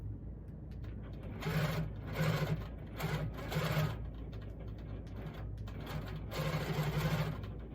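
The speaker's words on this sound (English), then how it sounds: "And I'm just stitching in the perimeter here." A longarm quilting machine stitching around the perimeter of a casserole carrier lining, a steady mechanical hum rising into rhythmic bursts of fast needle chatter, fairly quiet and close.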